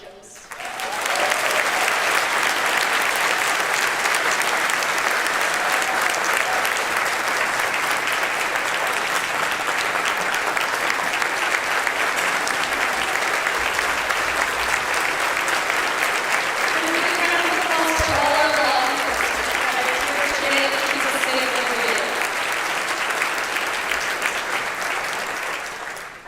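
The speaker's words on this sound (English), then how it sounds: "let's all give a warm round of applause to Constable Precinct 1 Deputy Sheila Jones" Sustained audience applause at a county State of the County address for a Precinct 1 constable deputy, a dense, loud, steady roar of many hands clapping that holds for nearly the whole stretch before tapering off.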